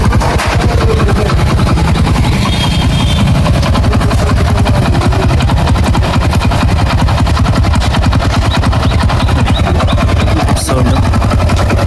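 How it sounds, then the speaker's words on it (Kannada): A restored Hero Honda CD100 motorcycle engine idles loud and close, a rapid, even chain of thumping pulses running steadily throughout. "ರನ್ನಿಂಗ್ ಇದೆ ಗಾಡಿ ಸೌಂಡು."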